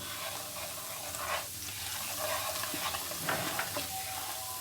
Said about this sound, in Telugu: అవి బాగా ఫ్రై అవుతున్నాయి.